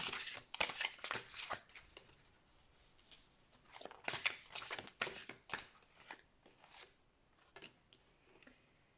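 A deck of tarot cards being shuffled close by in bursts of crisp riffling and slapping, with short pauses between rounds and no talking.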